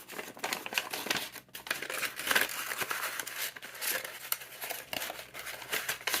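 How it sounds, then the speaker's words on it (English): Cash bills are slipped into a paper envelope, making close, crisp rustling and crinkling paper sounds in irregular bursts with short pauses between them. "I'll just add this money into my bills envelope"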